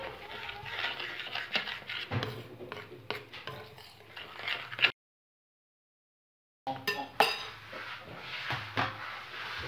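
A spoon scrapes and clatters around a bowl while stirring a Ferrero Rocher chocolate glaze, in a steady run of close, busy kitchen noise that drops to silence for a couple of seconds before resuming.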